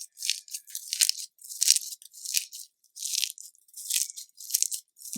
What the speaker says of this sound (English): Listen to the sound of the crunching.